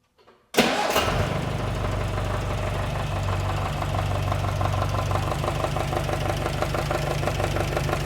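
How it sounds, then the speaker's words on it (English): A classic car's engine cranks and catches, then settles into a loud, steady run with a faint rhythmic knock that continues without talk. "let's get this thing running, so hopefully you can hear through the mic what the noise this motor is actually making is."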